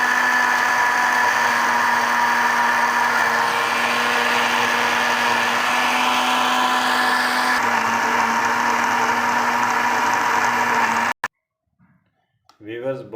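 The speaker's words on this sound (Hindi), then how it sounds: "अब हम इसे करेंगे ग्राइंड" Mixer grinder blending mint and coriander chutney with green chilli, red chilli and salt, a loud continuous motor whir lasting about eleven seconds, then stopping abruptly with a brief voice after.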